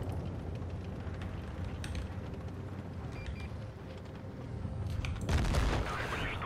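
A heavy tank cannon boom bursts out near the end over a steady rumbling battle background in World of Tanks Blitz, with scattered distant shots earlier.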